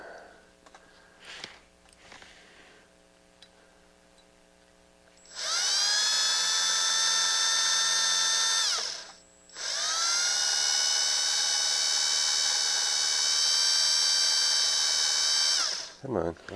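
A drill whines loudly at high pitch in two long runs while drilling out a soft aluminum rivet on a Pioneer PL-8 turntable, with quiet handling noises before it starts.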